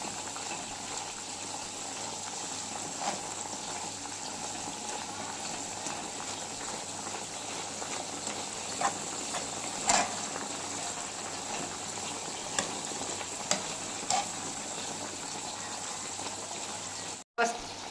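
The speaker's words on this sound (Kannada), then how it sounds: "ಚೆನ್ನಾಗಿ ಕುದಿ ಬಂದು ದೊಡ್ಡ ದೊಡ್ಡ ಬಬಲ್ಸ್ ಬರುವಾಗ ಇದು ಕಾದಿದೆ ಅಂತ ಆಗ್ತದೆ" Homemade herbal hair oil with curry leaves and other Ayurvedic herbs boils in a pot, a steady close bubbling and hiss with occasional louder pops, running continuously under a quiet background.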